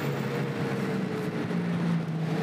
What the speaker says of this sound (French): C'est bon moteur, ça. 4 cylindres GM, une vraie bête, un animal.